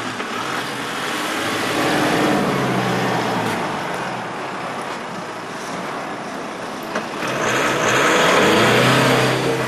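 Volkswagen Amarok pickup crawling over a series of axle-twister ditches with traction control only, engine droning and revving up twice in swelling pushes at close range, with no talk.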